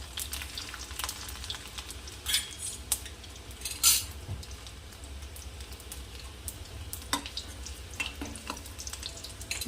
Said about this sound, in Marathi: पाच ते सहा आहे जिरं लसण आहे आणि लसणला असे छोटे छोटे तुकडे करून घ्यायचे आहे याला छान परतून घ्यायचं